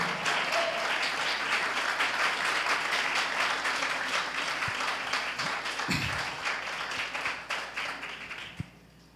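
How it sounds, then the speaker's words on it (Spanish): Loud, sustained applause from a church congregation during a sermon, steady dense clapping across the whole stretch that thins slightly toward the end, with a couple of sharp knocks near the close. "Denle un aplauso fuerte al Señor."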